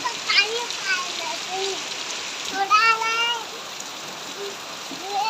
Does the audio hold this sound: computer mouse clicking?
no